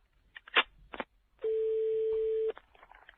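A telephone call is placed in a French comedy prank call: short bursts of dialing or line noise, then a single steady tone of about one second, followed by softer line crackle.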